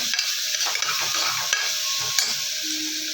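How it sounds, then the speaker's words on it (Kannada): Tomatoes fry in a pan with a steady close sizzle and the scrape of stirring throughout, no voices present. "ಟೊಮಾಟೊ ಹಾಕ್ಕೊಂಡು ಫ್ರೈ ಮಾಡಿ"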